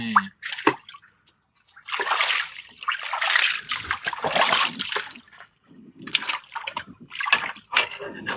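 Water spray hosing down a paddy harvester outdoors, heard as bursts of hissing, splashing spray that start and stop repeatedly, fairly close, with no talk over it.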